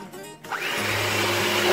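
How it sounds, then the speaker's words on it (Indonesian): An electric hand mixer starts up and whirs steadily at close range, beating eggs with sugar for a coconut-milk potato cake batter, a continuous loud motor drone with no talking. "pertama-tama telur sama gula kita kocok sampai memutih ya"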